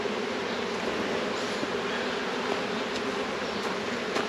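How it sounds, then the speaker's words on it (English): Honey bees buzzing in a dense, continuous swarm around an overflowing hive, steady and close with no talk. "bees are overflowing and the sound is crazy"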